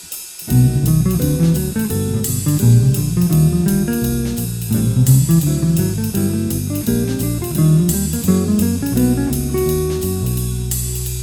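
A guitar plays a steady run of even eighth notes over changing chords, close and clear, with no voices.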